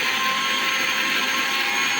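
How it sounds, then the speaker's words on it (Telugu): A mixer grinder grinds green chilies and ginger with a loud, steady, high whirring roar that holds unbroken throughout, with no voices over it. "ఇది మెత్తగా మిక్సీలో తిప్పేస్తున్నాను."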